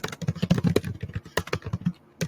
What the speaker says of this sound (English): And then maybe I'm going to type up some steps.